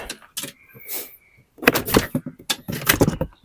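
A plastic trim clip on a BMW X1 E84 rear door card pops free with sharp snaps and clicks, a cluster of close, loud plastic pops amid handling rustle.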